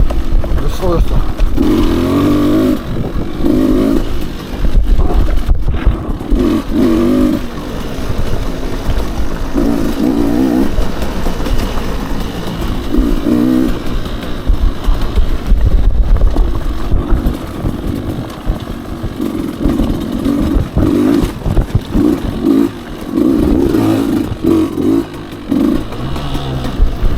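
A Beta 200 RR dirt bike engine revs in repeated bursts along a trail, rising and easing with throttle over steady wind rush, with a voice talking over the ride.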